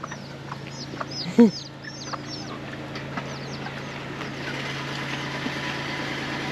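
A hen clucks softly now and then while small chicks peep in high chirps, all over a constant low mechanical hum.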